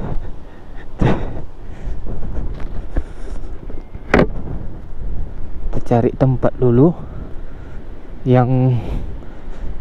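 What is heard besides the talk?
strong wind at a camping site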